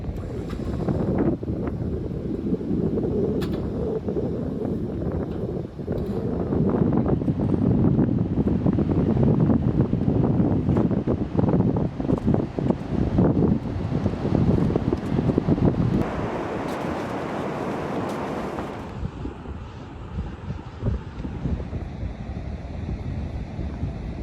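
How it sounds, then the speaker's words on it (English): Strong wind at a Gulf of Mexico beach at night buffets the microphone in a continuous roar, with a surf-like wash underneath and brief gusty bursts, no voices. "Windy night here"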